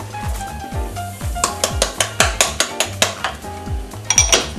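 Salmon and pasta cooked together in a pan on the heat, with a utensil striking and scraping the pan in a steady rhythm of sharp metallic clanks and a faint sizzle underneath.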